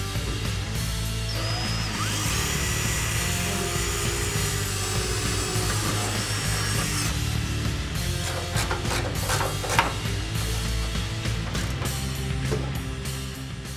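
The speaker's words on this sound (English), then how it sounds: "I'm going to drill another hole in the transition pan for another clip back here" A power drill bores a hole through the transition pan of a 1965-1966 Mustang during fuel line installation, giving a steady mechanical whine that stops partway, followed by scraping and clattering handling noises.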